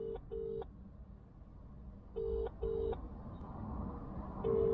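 An unanswered telephone call gives repeated electronic ringback or busy tones, short steady beeps in pairs with gaps between, over a low background rumble and no speech.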